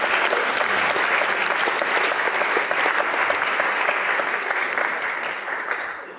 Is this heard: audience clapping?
yes